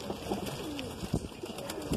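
A Madrasi pigeon coos close by in low, rolling repeated calls, with no voices over it.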